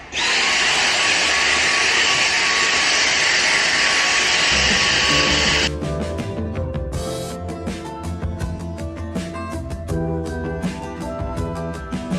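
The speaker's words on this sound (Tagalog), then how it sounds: "Yung ginagamit ko pala pag-vacuum dito sa ating rug is ito." Household vacuum cleaner running over a rug at home, a loud steady whine that cuts to a rougher, rattling drone with repeated scraping pulses as the nozzle works the pile, no talking.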